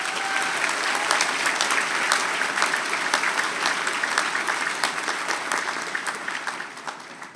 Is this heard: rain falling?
no